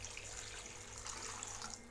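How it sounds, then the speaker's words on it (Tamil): A steady stream of water pours continuously into a pot of kurma, a bright splashing hiss with no pauses, close by and moderately loud. "இப்போ இதில் நம்ம குருமாக்கு தேவையான அளவுக்கு தண்ணி சேர்த்துக்கலாம்"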